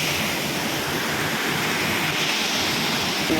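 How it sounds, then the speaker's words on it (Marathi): An overflowing stream in a rainy Konkan village rushes loudly and continuously, a dense, unbroken wash of water noise close to the listener. "माझा आवाज नसेल पाण्याचा आवाज येतोय ना तर बघा पाणी किती आहे"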